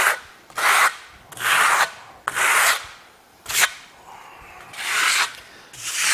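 Steel trowel spreading a lime-based Venetian plaster bed coat with aggregate across a wall, giving repeated gritty, scraping strokes about a second long, separated by brief pauses, close and clear.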